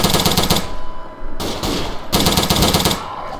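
Submachine gun fire in Garry's Mod during a small-town shootout: loud, rapid automatic bursts with a short pause between volleys, close and dominant with no talking.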